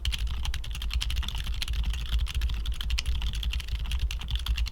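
Typing on a mechanical keyboard with tactile switches gives a continuous run of quick, close clacks over a low hum, steady throughout with no speech.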